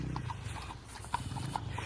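A horse on a tourist ride near the boating area in Ooty clip-clops along at a steady walk, its hoof strikes close and distinct, with a few louder knocks.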